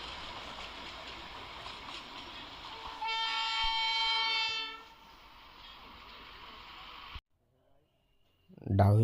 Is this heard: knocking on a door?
no